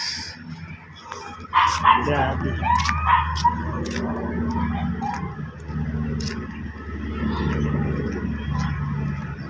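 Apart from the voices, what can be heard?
dog barking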